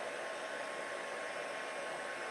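A heat tool runs without a break while drying a watercolour painting, making a steady, even rush of blown air at moderate volume with no other sounds.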